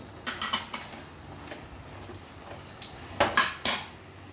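Mushroom tapenade with chili flakes and oregano stirred in a bowl: a spoon clinks and scrapes in scattered bursts, clustered near the start and again near the end, close and fairly soft, with no talking.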